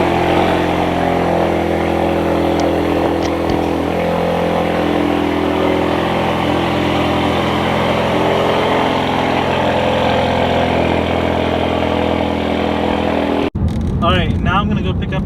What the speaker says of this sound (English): let's do a real quick cold start.